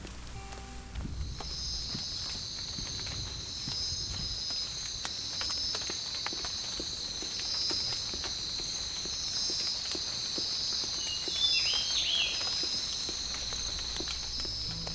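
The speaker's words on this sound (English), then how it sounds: "And now here's an MP3 of realistic rain in a forest added onto it." Realistic forest rain laid over The Forest video game, a soft steady hiss of rainfall with scattered drips and patters at low level, with a high thin tone running through it, no voices.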